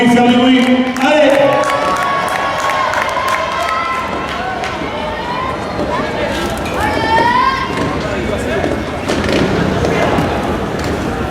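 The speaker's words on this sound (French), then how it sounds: "Allez, on peut l'encourager, faire du bruit." Crowd noise at a trial motorcycle final in Marseille as fans cheer on the world champion rider Tony Bou, a steady loud roar of voices and shouts lasting throughout, with an announcer's voice over it.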